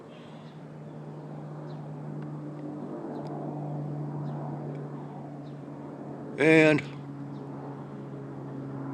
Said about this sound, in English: It almost sounds like an early morning airplane of some sort.